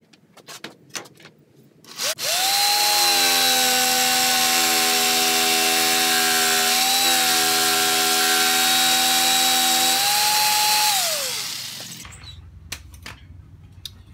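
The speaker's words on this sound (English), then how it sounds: "I'll cut that out with a jigsaw." A jigsaw cuts pallet wood for a kitchen island range hood, a loud, steady, high-pitched buzz that runs for about eight seconds before winding down, with brief knocks before and after.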